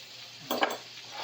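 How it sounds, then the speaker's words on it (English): Steaks frying in a pan give a low steady sizzle, broken by a brief, louder scrape and stir of a utensil against the pan midway through. "We're going to look at our steaks today and see if it's browned up very nicely."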